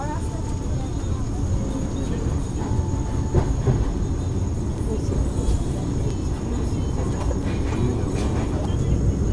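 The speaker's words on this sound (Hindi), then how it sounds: "ट्रेन का एक्सलरेशन देख सकते हो भाई, जो जबरदस्त है यार, इतनी क्विक एक्सलरेशन" Vande Bharat Express 22301 Howrah–New Jalpaiguri train accelerating, heard from on board as a steady, loud rumble and rolling roar with faint track clatter throughout.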